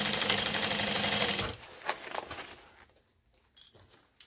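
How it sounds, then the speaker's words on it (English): A sewing machine back-stitches over the handles of a bucket bag, running in a loud steady burst, then slowing into short, quieter bursts before stopping. "I'm going to go back stitch over these connector, or they're actually the handles."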